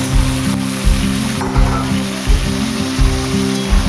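Taro pieces drop into hot oil with dry chillies and sizzle loudly and close, with repeated dull stirring knocks in a steady rhythm over the frying hiss.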